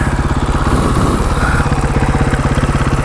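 A 2012 KTM 500 EXC dirt bike sits idling in neutral, a loud close steady thumping engine pulse with even rhythm throughout.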